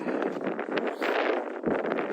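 Wind on a Montana trail roars and buffets against the microphone in steady gusts, a loud broadband rushing that surges and eases without pause.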